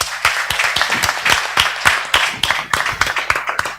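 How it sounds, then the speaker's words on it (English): An audience applauds a general director at a university English Day event, a dense, steady patter of many hands clapping throughout, fairly close and loud, with no talk over it. "I want that you clap your hand for him"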